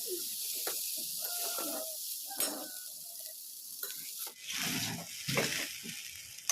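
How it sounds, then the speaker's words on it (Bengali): Vegetable fried rice being stirred and mixed in a pan, with a steady sizzle under repeated scraping and tossing strokes of varying loudness, fairly close. "আর এই যে রাইসটাকে ভালো করে মিশিয়ে নেব"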